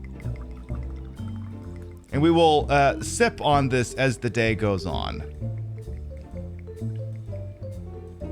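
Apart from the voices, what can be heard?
pouring a drink into a tall glass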